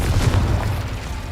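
A Confringo spell explosion in the video game Hogwarts Legacy, heard as a single short, heavy boom with a rumbling tail that fades within about a second.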